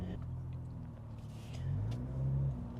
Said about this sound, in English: Car sounds really lovely, so we are now cruising around in comfort mode, and the car is silent enough to daily drive